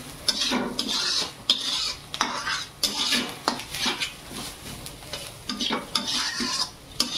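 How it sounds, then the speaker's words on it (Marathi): A spoon stirs turmeric into a sizzling mixture in a pan for a breakfast dish, producing rhythmic scraping and clinking strokes against the metal over a soft frying hiss, close and fairly loud, without voices. "हळद अशी मिक्स करून घ्यायची"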